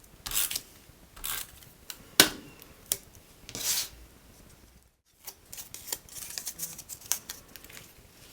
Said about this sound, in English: And cut these edges ever so slightly.